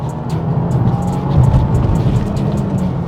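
Subaru WRX tS launching hard from a standstill in Sport Plus mode, traction control engaging, its engine roaring loud and steady from inside the cabin as it builds speed, with a faint whine rising over the rumble.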